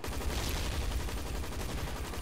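Continuous rapid gunfire from the shooter game Hazrd Ops, a dense unbroken rattle of shots that stays loud and steady for the whole stretch, with no speech.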